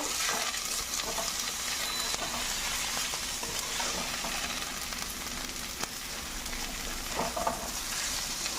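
Beetroot stir-fry being stirred in a pan, with a steady close sizzle of frying and repeated scraping strokes of the spoon throughout, no voices.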